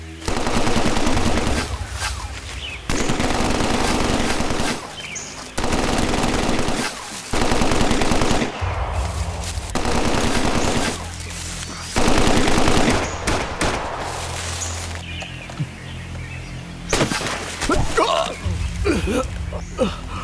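Long bursts of automatic gunfire from a Tamil-dubbed action movie, loud and continuous with brief gaps, mixed with a dense film soundtrack.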